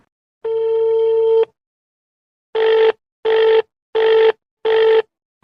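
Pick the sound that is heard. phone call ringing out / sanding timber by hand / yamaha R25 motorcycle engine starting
phone call ringing out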